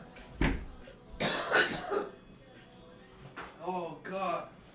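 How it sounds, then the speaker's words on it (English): Harsh, bursty coughing from a man at close range, a few quick hacks and throat-clearing amid a relaxed smoking session, with speech-like voice sounds woven in. "That's how you were coughing."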